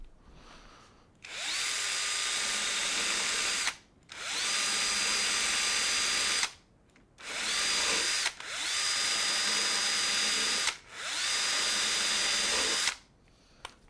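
Power screwdriver running in long bursts during woodworking, four loud steady whirring runs of a few seconds each, separated by short pauses, close and without speech.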